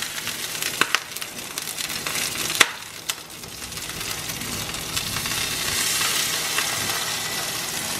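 A flipped egg sizzles steadily in a frying pan, close by. The hiss swells slightly toward the end, with a few sharp clicks and taps from the pan near the start.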